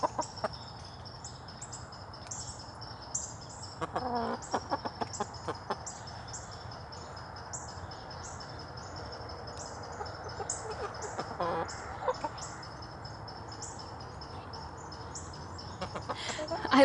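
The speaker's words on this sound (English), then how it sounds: "I love having chickens so much." Backyard chickens in a garden cluck and murmur softly nearby, with scattered rooster-like calls and a few sharper bursts over a quiet outdoor background, no one speaking.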